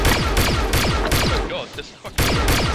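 Rapid bursts of gunfire from a Jedi character's gun in a video game, repeated fusillades firing in a quick rhythm with a short lull near the end before firing resumes.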